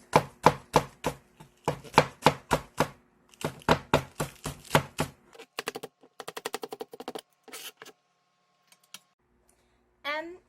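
A knife chops green onion on a cutting board in fast, crisp bursts of evenly spaced taps, with short pauses between the runs.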